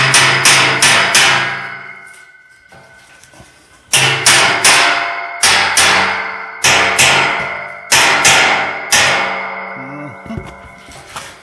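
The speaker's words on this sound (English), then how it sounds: "we're gonna go back to the smaller hammer." A smaller hammer beats a metal car fender in quick bursts of three to five sharp, ringing metallic blows with brief pauses between groups, loud and close, with no talking.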